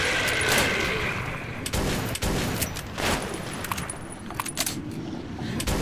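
Shotgun blasts and clattering combat noise fill a fight in the video game Metro 2033: several loud, sharp bursts and metallic rattles close by, unevenly spaced over a dense, busy background.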